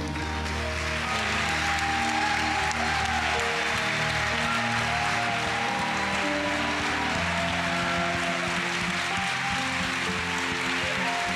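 Hands clap together at a church service in the JESUS LIBERA live meeting of Pastores Oscar y Marycarmen Sensini. The clapping runs steadily the whole time under sustained music and room sound, without clear breaks.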